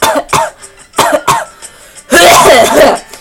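A voice imitates a sick fox's harsh coughing: several short raspy bursts separated by pauses, then one long, wet, rattling hack at close range.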